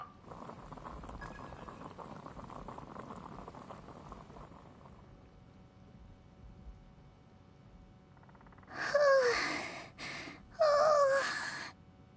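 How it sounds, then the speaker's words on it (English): Water boiling in the video game Genshin Impact, a soft continuous bubbling hiss that fades over several seconds, followed by two bursts of game voice speech. "I'll boil some water."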